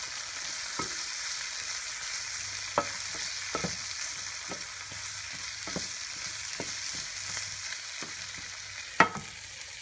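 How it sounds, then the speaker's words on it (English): Broccoli and mixed vegetables sizzle steadily in a pan while a utensil stirs them, with scattered scraping clicks over a soft continuous frying hiss. "And I'm just going to stir this vegetables up a little bit."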